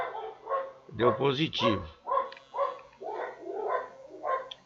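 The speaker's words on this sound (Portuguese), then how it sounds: "Como se concentrar com tanto cachorro latindo assim, não sei." Several dogs bark repeatedly in short bursts, moderately close, while someone talks over the barking.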